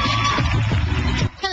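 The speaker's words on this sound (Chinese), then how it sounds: "看着台下员工兴奋尖叫" Hotel staff watching a uniform fashion show scream and whoop excitedly as a crowd, a loud continuous burst of yelling voices that drops off briefly near the end.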